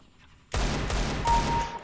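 AK rifle fire in a video game breaks out abruptly after a quiet moment as a short burst of close, loud, rapid shots that runs to the end.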